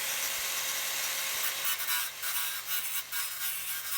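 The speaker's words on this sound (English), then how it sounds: "Just bend the trunking back and then use the hacksaw to cut." A hacksaw cuts through bent plastic electrical trunking, making a steady rasping with irregular, harsher strokes close by and no talking.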